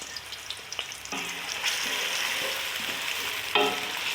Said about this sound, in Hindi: प्याज को, लहसुन को और अदरक को सौते कर लेते हैं सिर्फ।